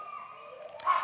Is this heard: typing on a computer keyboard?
no